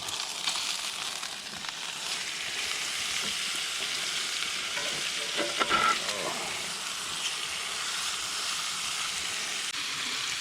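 Steaks sizzle loudly on a camp stove outdoors, a dense continuous frying hiss with a brief burst of scraping and spatter midway as they are turned over.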